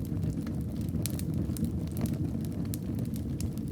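Wood burns in the fireplace of a snowbound Swiss mountain cabin, giving a steady low roar dotted with frequent sharp crackles and pops, close and even, with no voices.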